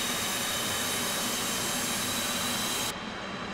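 An F/A-18C Hornet jet engine during a cold start in the DCS World flight simulator roars loud and steady with a high whine, cutting off abruptly near the end to a duller rumble.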